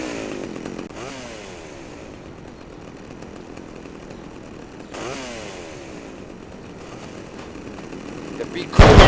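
Chainsaw buzz from the video game Grand Theft Auto: Liberty City Stories, with revving bursts and sweeping pitch changes, a few sharp gunshot-like hits mixed in, and a loud crash at the end.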